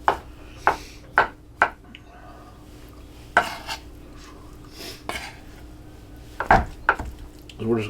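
A knife chops stew meat into small cubes on a board, a couple of pounds of it, giving sharp close knocks in uneven bursts with quiet pauses between them.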